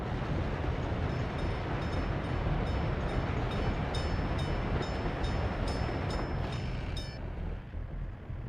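A train rolls along the rails in the Workers & Resources city-building game, a steady close rumble with rhythmic clicking on top, easing off slightly near the end, no talking.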